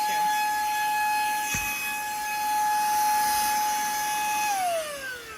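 Powerful cordless car vacuum cleaner run as a blower, a loud, steady high-pitched motor whine that holds for several seconds, then drops in pitch as it spins down at the end.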